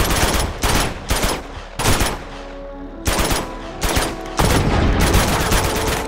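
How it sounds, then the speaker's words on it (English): Loud, close AK rifle fire in Uncharted 2 comes as repeated automatic bursts separated by short pauses, dominating the whole stretch with no talking. "Give me the AK. I want to waste bullets."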